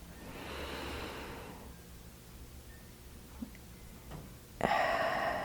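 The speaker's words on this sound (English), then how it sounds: "I invite you to just take another nice, deep, deep breath." Someone takes a slow, deep breath in and lets it out during a guided healing meditation, a soft airy inhale followed by a quiet pause and a louder, breathy exhale, close by and with no speech.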